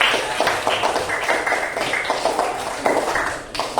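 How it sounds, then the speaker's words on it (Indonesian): A class claps hands together for a group of pupils, a dense steady patter of many hands at close range, continuing through the short stretch without much pause. "Tepuk tangan dulu untuk kelompok."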